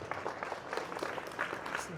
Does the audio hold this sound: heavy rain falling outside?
no